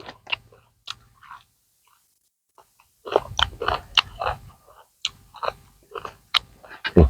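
Someone eating crunchy fresh field vegetables with a spicy Luang Prabang papaya salad, close wet bites and chewing crunches in irregular bursts with pauses, the second half busier and louder, no talk.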